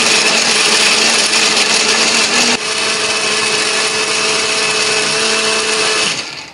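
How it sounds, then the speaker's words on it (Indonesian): A blender grinds chili spice paste with a little added water, a loud, steady motor roar that shifts pitch slightly partway through, then winds down at the end. "Nah, ini akan kita haluskan menggunakan blender."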